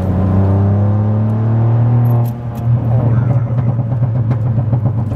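Seat Ibiza 1.0 from 2016 revving loud and close, a steady droning note climbing, then a ragged burbling stretch with crackling exhaust pops scattered over the engine.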